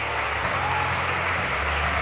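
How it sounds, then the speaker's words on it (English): Crowd at a swim meet applauding and cheering a swimmer during a heat, a dense steady wash of clapping and cheers filling the whole stretch at close, even loudness. "Give her a bit of a cheer."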